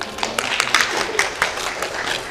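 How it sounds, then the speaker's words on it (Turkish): Audience applause at a theatre rehearsal after a poem recital, a steady wash of many hands clapping with a few sharper claps standing out, fairly close and full. "Alkış."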